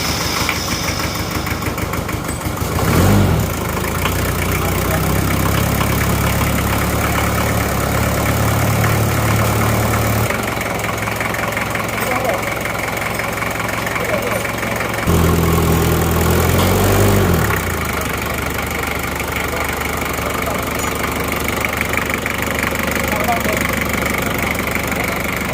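A rebuilt Daihatsu Taft GT diesel engine idles with a low, steady rumble and knocking throb, close by, with brief revving and voices talking over it.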